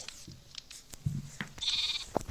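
A faint, brief sheep bleat in a video game among soft scattered clicks and thuds, quiet and somewhat distant.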